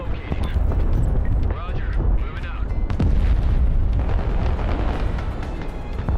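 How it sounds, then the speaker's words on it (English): Cruise missile wave explosions in the video game Broken Arrow: dense, continuous rumbling blasts and bursts that keep going without a break, loud and close, with a voice talking faintly underneath. "Cruise missile wave hitting now"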